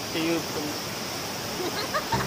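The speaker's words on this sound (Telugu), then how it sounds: "Water falls." Chitrakote waterfall roars as a steady, broadband rush that fills the whole clip, with scattered voices and faint calls rising briefly above the wash of falling water.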